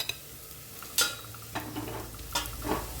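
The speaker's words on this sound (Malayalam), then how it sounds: "അതിലേക്ക് കുറച്ച് നാളികേരക്കൊത്ത് നേരത്തെ വറുത്തതും കൂടെ നമ്മൾ ഇട്ട് കൊടുക്കുകയാണ്." Pieces of fried coconut tumble into a hot pan and are stirred, giving a few sharp scraping strokes and bursts of sizzle over a quiet, low background, close and without talk.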